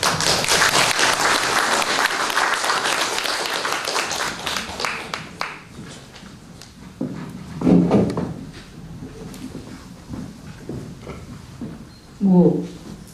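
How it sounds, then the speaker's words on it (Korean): Dense applause from a ceremony audience for poet Kim Mi-ok at the fifth-anniversary celebration and awards of the literary magazine Munhak Cheongchun, loud for about five seconds before fading out as a speaker's voice takes over. "김미옥 시인께 박수 한번 보내주십시오"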